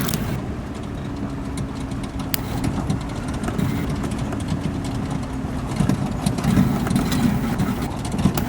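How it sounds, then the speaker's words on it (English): Aircraft engines idling in Microsoft Flight Simulator 2020 during descent, a steady broadband engine drone with a low hum held at constant loudness throughout, without any talk. "Okay, all engines idle."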